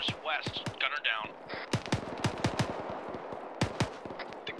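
Bursts of .50 cal machine gun fire from the south during a field training exercise: sharp, irregular cracks and short volleys, fairly loud, with brief voices near the start.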